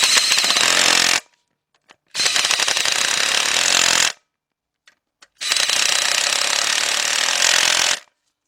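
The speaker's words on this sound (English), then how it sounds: "we're going to take our cordless impact and tighten these 3 up" A cordless impact wrench with a 15 mm deep socket on a 3/8-inch drive extension tightens three bolts on a Chevy Cobalt oil pan, hammering loudly in three long bursts separated by short silences.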